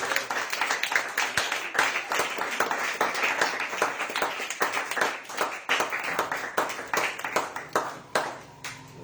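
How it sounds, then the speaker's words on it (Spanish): A church congregation claps in a brisk, dense burst of individual hand claps with a loose rhythm, carrying on for several seconds before thinning out near the end. "Denle aplausos al Señor."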